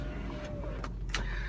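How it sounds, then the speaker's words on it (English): Power front windows of a 2002 Lexus SC 430 convertible motoring upward, a steady low electric hum with a faint rising whine, close and fairly quiet, followed by a couple of brief clicks as they seat. "and then up come the front windows."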